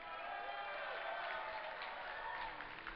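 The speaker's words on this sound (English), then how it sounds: "If you would like Pain.User from Lazarus Gaming to win, give a cheer for Pain.User" At MLG Dallas 2010, a StarCraft II tournament crowd cheers and applauds for Pain.User of Lazarus Gaming. The sound is a steady, slightly distant wash of whoops and clapping with voices mixed in.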